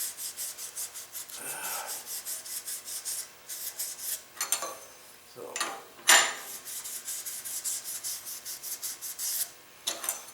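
A turned pen spins on a lathe while 600-grit sandpaper is held against it, making a soft, continuous rubbing hiss with several brief louder scrapes and clinks, close but fairly quiet.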